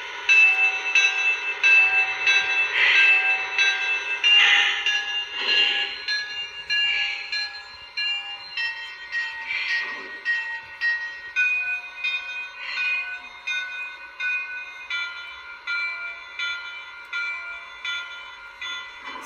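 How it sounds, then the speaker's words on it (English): Lionel model train bell ringing steadily for about twenty seconds, a close, clear metallic clanging in a regular rhythm with no voices. "And of course, the bells are also different as well."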